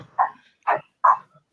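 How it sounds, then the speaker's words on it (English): Three separate dog barks ring out at an even pace, fairly close and clear, with quiet between them and no talking. "while the dogs bark here for a second"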